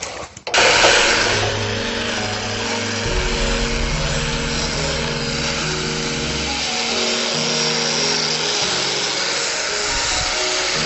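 An angle grinder grinding a piece of metal clamped flat on a welding table, starting up and then holding a loud continuous whine with shifting pitch as it bites the workpiece, close and with no talking.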